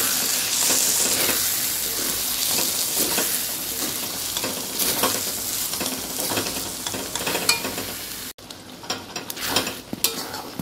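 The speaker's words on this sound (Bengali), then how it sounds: "এবার আমি হালকা আঁচে এটাকে কষাতে থাকি।" Spice paste of green chilli and cumin cooks on low heat, a dense steady sizzle with frequent stirring scrapes, close by, dropping suddenly quieter near the end.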